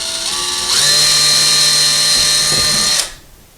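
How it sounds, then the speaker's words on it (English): A power drill bores a tiny hole into a wall for mounting a towel ring, with a loud, close, steady high-pitched whine that holds for a couple of seconds before cutting off sharply. "we're going to drill a tiny little hole here and here so that we can get this started"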